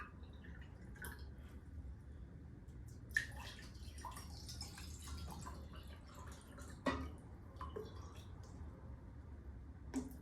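Water poured from a pitcher onto soaking sphagnum moss makes quiet drips and soft trickles, with a few sharper splashes, close and faint.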